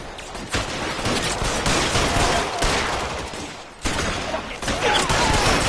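Dense, continuous gunfire crackles loudly and nearby as a sustained volley of overlapping shots, with only a brief dip before it resumes at full intensity.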